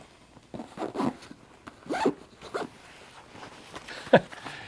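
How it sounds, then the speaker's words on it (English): Zipper on an Ozonics HR600 carry bag being pulled shut in several quick, close rasping strokes, a few short bursts separated by brief pauses, the last one sharpest. "and then zip it right up"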